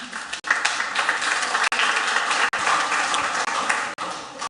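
Applause from the audience at a city council meeting, a dense sustained burst of many hands clapping, broken by a few brief dropouts.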